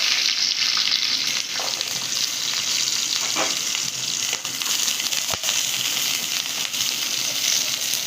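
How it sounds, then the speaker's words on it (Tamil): Garlic sautés in sesame oil for a pregnancy-diet kali, giving a steady, loud, close sizzle and crackle that runs the whole time, with faint stirring scrapes and a sharp tick near the middle and no voices. "வெள்ளைப்புடு வந்து நம்ம வதக்க போகிறோம் கொஞ்சம் நல்லெண்ணெய் ஊற்றி வதக்கணும்"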